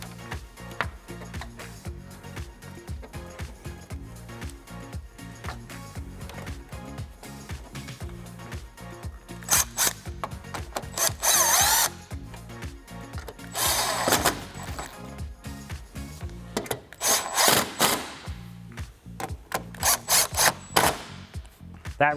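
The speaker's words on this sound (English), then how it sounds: "And now I'll install our 10 millimeters and tighten them up with our 10 millimeter socket on our" An impact gun with a 10 mm socket drives 10 mm bolts on a Barricade HD2 front bumper for a 2014-2021 Toyota Tundra, in several loud short bursts among quieter scraping and handling noises, close by with no talking.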